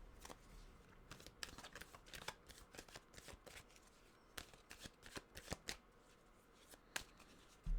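Tarot cards being shuffled by hand: quiet, close riffling with rapid papery flicks and irregular clusters of snaps over several seconds, with no talking.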